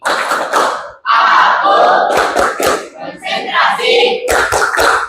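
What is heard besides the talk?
classroom students doing the concentration clap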